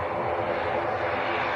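An Aer Lingus ATR 72 turboprop at Manchester Airport gives a steady, broad engine drone at moderate distance, holding level throughout the short stretch with no voices over it.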